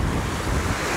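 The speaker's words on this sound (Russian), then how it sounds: "волны всегда бьются вот об эти" Sea waves break and wash steadily onto the shore beside ruined structures on the coast at Golubitskaya in October, a continuous loud roar of surf mixed with wind buffeting the microphone.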